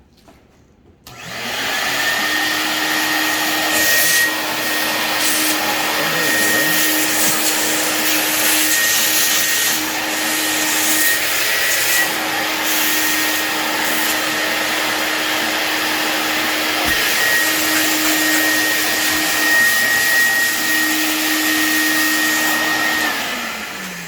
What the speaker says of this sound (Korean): 청소기로.